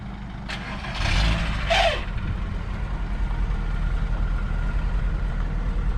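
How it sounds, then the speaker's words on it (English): A truck unloading a Volkswagen Golf, with a low engine rumble running throughout and two short hissing bursts near the start, like air releases, with no talk. "We're just getting the Volkswagen Golf off the truck now."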